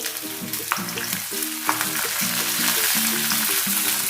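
Chopped onion goes into a pan of frying peanuts and crackles with a continuous close sizzle and a few stirring knocks, with a tonal melody playing underneath.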